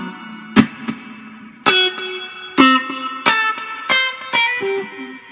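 An electric guitar played through the JamUp app's delay effect sounds about six plucked notes and chords, each ringing with trailing echoes that overlap into a continuous wash. No one speaks.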